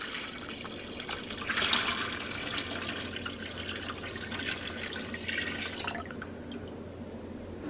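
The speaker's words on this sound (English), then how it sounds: "I'm gonna pour some water in here. My pitcher is about a gallon of water." Water from a gallon pitcher pours into a portable collapsible foot spa, a splashing, trickling stream that swells and then tapers off, close and moderately loud.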